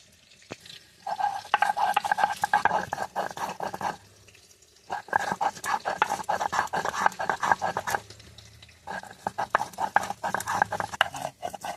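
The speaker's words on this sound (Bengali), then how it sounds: "প্রথমে আদাটা আমি বেটে নেবো।" Ginger being ground on a traditional grinding stone in a village-style kitchen, heard as bursts of rough, rhythmic scraping and rubbing strokes separated by brief pauses, fairly close, with no talking.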